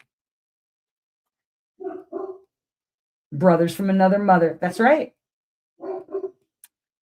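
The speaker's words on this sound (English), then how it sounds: "I can hear him downstairs barking right now, actually." A dog barks a couple of short times, then someone speaks briefly, and the dog barks twice more; all close and clear against silence.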